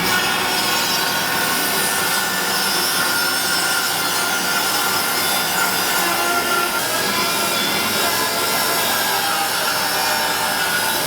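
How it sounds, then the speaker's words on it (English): A bandsaw cuts through crepe myrtle wood in a loud, continuous rasping and grinding that stays steady and close throughout, with no voices. "Can I cut this on the bandsaw?"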